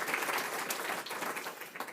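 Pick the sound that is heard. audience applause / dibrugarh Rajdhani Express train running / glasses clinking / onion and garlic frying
audience applause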